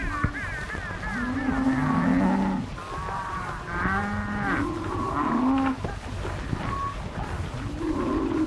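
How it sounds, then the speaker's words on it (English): Cattle on a 1935 Western cattle drive low and moo repeatedly, several overlapping calls rising and falling at close range, with no talking over them. "Senor Bart, I will take these cattle to Mexico for you."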